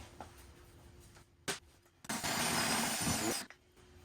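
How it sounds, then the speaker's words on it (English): A couple of sharp knocks, then a power drill whirs loudly and steadily for about a second and a half, drilling out a small metal piece on a Vendo 81 Coke machine, before stopping. "we're going to drill this little inner piece out"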